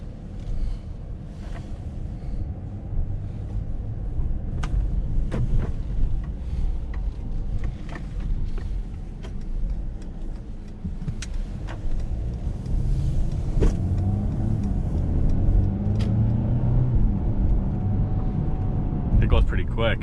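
A 2019 Mercedes-Benz GLC 300 is driven, giving a steady low road and engine hum with some wind noise that swells slightly later on, while a person talks over it at times.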